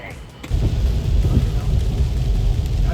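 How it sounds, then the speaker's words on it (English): Heavy pouring rain in Iowa hisses steadily while thunder rolls through as a deep, sustained rumble that swells in after a brief quieter moment at the start. "headed off to the camp in the pouring rain"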